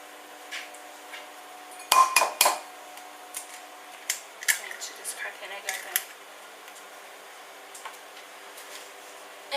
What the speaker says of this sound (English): I'm just going to quickly grab a bowl.